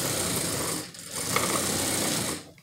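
Steady, loud whirring of a sewing machine stitching fabric for an oval watermelon craft piece, running continuously with a brief dip midway and cutting off at the end.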